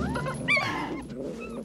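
A Dalmatian puppy whimpers and yips in short, high, wavering cries, close and fairly quiet, with a brief sharper yelp in the middle.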